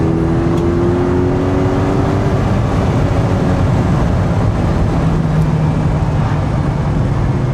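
Morgan Plus Four being driven hard through corners, its engine droning loud and steady in the cabin with a rising rev tone and exhaust crackles buried in the continuous roar.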